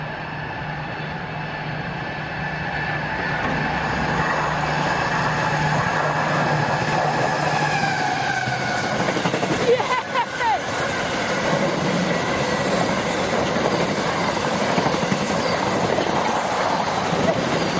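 A train rumbles steadily through a station without stopping for a long stretch, with rattling wheels and a brief clatter midway, loud and close throughout.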